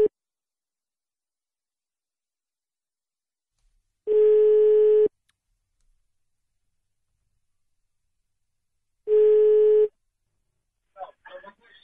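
Two long ringing tones of a telephone call placed live from a French radio studio, about five seconds apart, loud and clean against silence, with faint voice fragments at the end.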